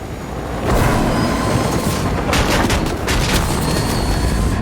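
A loud, roaring blast of a helicopter being destroyed in Fortnite, sustained heavy rumble with bursts of debris-like crackle.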